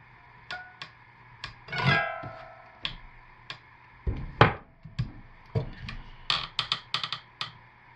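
Soap log being sliced with a multi-wire cutter on cold-process blackberry soap, a series of sharp clicks and taps with one longer scraping swipe, close and fairly quiet with no talk.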